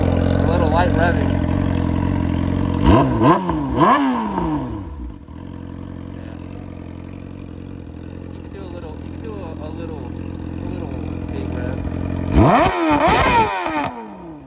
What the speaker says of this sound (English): A little light revving.